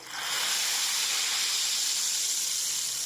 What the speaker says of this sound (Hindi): अब इसमें तड़का लगाएंगे।